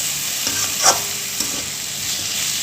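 Steady sizzling from hot oil as a tempering cooks in a frying pan for a sweet-sour mango dish, with a few brief stirring scrapes and clinks over the constant hiss.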